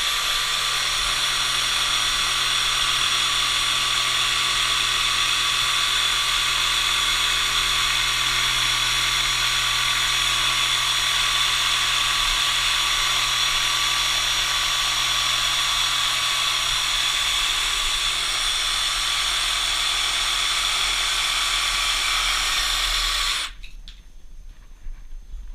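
A Bosch GST 18 jigsaw with an upcut blade cuts pre-veneered MDF in one continuous, steady high-pitched whine, loud and close, running for over twenty seconds before cutting out abruptly near the end.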